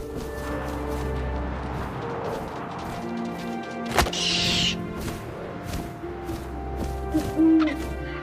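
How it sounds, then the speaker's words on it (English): An owl hoots in the video game What Remains of Edith Finch, soft hoots over windy ambience with a sharp thud partway through, no talking. "And suddenly, I was an owl."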